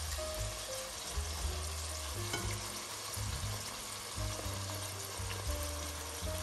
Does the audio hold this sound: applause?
no